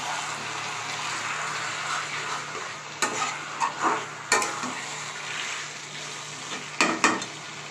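Fatty mutton being sautéed in oil that has separated, a steady hiss of frying broken by several sharp spatula scrapes and stirs against the pan, close by.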